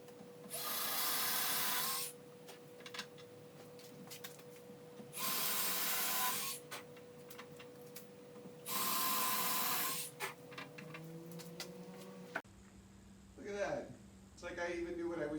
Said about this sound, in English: All you need to do is drill it deep enough